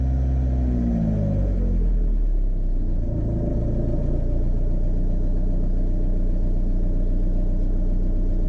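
With the throttle released, a vehicle engine drops from a higher rev down to a steady, loud, low idle rumble that runs close and unbroken, with no one speaking.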